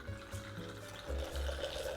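Blanco tequila poured into a cocktail mixer for a margarita, a steady liquid stream running for about two seconds.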